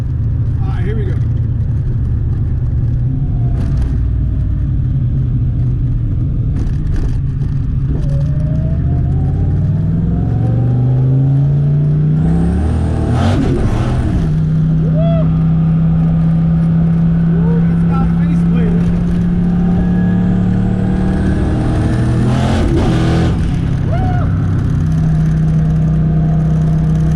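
Car with a Tremec TKX transmission driving as gears are shifted without the clutch; a loud steady engine drone rises and falls with revs, with audible shift transitions and clunks across the run.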